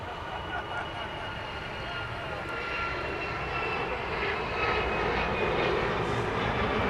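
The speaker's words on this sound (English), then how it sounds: "There's United Max 8, which is taking off for ports unknown" A United Boeing 737 Max 8 takes off at LAX, a steady, distant jet engine rumble that builds slightly toward the end.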